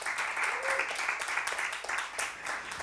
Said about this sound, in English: please big applause for our fantastic international comedian.